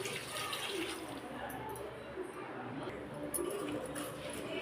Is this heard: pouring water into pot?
yes